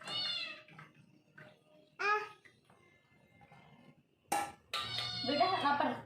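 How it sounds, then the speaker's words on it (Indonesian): A kitten mews a few times near a kitchen, with child-like babbling and voices around it and faint clinks of dishes, the cries short and high, rising over the chatter. "Itu kucingnya tuh."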